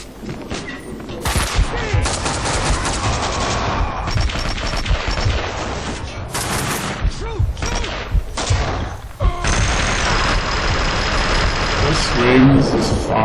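Gunfire from the video game Max Payne 2: The Fall of Max Payne, with dense bursts of shots and a rattling exchange of fire that carries through the whole clip, loud and busy.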